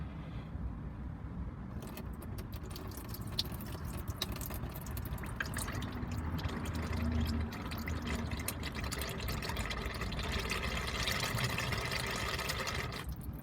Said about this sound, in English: We're going to flush out whatever fluid's left.